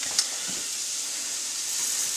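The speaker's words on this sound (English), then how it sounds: "So now we're going to add the rice." Rice sprinkled into hot oil with softened onion in a pan for blueberry risotto, giving a steady, close sizzling hiss throughout with a brief sharper crackle near the start, no talking.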